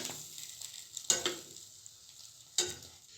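Eggy bread frying in a pan, a soft steady sizzle with two sharper bursts of crackle as the slice is stirred or shifted, close and fairly quiet.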